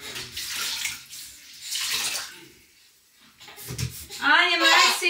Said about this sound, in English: It's more of a rinse than a bath.